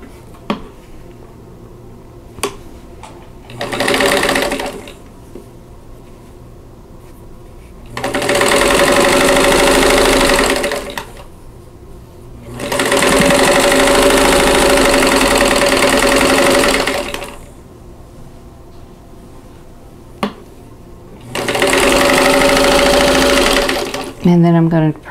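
A sewing machine stitching a Castle Garden quilt block runs in four bursts of whirring, a short one then three longer runs, close and loud, separated by pauses with faint clicks and handling sounds.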